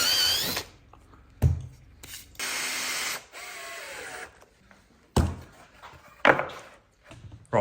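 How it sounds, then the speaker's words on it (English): A power drill with a bit runs in short bursts in a home workshop where green oak braces are being made, whirring for about a second at a time between pauses and handling clatter. "Here's that drill bit again."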